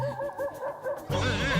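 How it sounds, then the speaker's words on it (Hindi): A dog whimpers in a series of short, whiny yelps, then rises into a louder drawn-out whining howl, close and clear with no talking, in a night scene of a comedy TV show. "अरे तेरा शेरू रो रहा है।"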